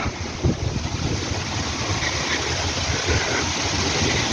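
A steady breeze blows outdoors in a park in Troieshchyna, Kyiv, on a very hot day, rushing continuously against the microphone as a broad, even roar with no voices.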